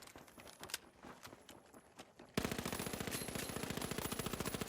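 Rapid automatic gunfire from an XP weapon in a shooter video game, a quieter stretch of scattered shots and footsteps giving way to a loud, sustained burst of evenly spaced rounds.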